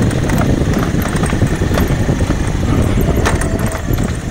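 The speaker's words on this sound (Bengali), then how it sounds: "সামনের দিকে একটা বাইক আসছে," A motorcycle approaches on a very narrow road during a night ride, its engine a steady, fairly loud droning roar that fills the whole stretch without a break.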